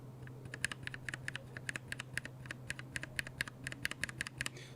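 Typing on a mechanical keyboard with switches lubed using laser printer lube produces quiet, close, irregular clacks in quick succession over a low steady hum, with no voices.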